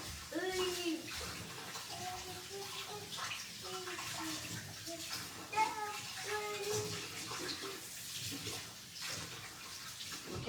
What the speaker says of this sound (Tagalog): O, sige, hugasan natin.